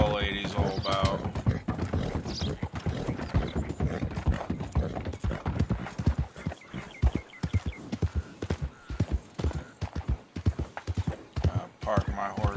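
Rhythmic horse hoofbeats in the video game Red Dead Redemption 2 clop steadily at a walking pace, close and clear, while someone talks over them with creaking tack in the background.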